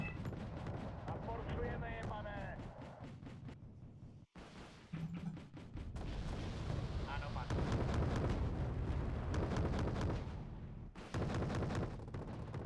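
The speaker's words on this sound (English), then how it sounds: "Artillery's firing from there." Artillery fire in Wargame: Red Dragon thuds and booms amid dense battle noise, with rapid clattering shots and a brief pause midway, while someone talks over it.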